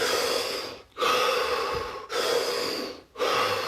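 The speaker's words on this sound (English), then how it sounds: "So take those breaths." Deep breaths drawn in and out in a slow rhythm, three long near inhales and exhales separated by brief pauses, heard alone with no talking.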